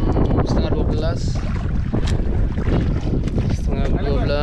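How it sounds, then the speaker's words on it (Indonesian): Wind buffeting a microphone on a small boat out fishing in Teluk Benoa, Bali, a continuous loud broadband roar with gusts, while a person talks over it. "Anginnya sudah mulai datang nih anginnya geng."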